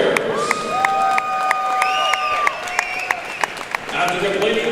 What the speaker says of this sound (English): let's give a round of applause to these 2 lightweight warriors